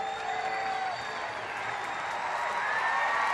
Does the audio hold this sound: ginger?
no